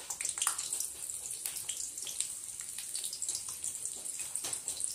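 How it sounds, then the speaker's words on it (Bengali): Onions cut into large pieces sizzle in hot mustard oil in a wok, a steady close crackling hiss with scattered pops throughout and no talking. "কড়াইয়ে তেল দিয়ে, সরষের তেল দিয়েছি, দিয়ে বড় বড় করে পেঁয়াজগুলো কেটে ওইটার মধ্যে ছেড়ে দিচ্ছি তেলের মধ্যে"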